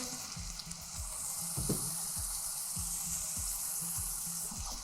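Oyster or fish sauce hits a hot pan and sizzles: a steady, loud hiss runs throughout, with soft rhythmic knocks of stirring underneath.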